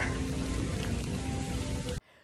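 Steady rain pouring down at Epcot theme park, a dense close hiss of drops on surfaces that runs continuously for about two seconds before cutting off abruptly to quiet.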